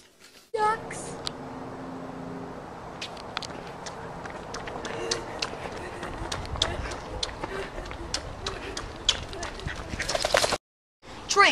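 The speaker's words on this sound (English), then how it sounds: "Ducks." Ducks quack in short, scattered bursts nearby, mixed with footsteps and rustling, while people talk over them throughout.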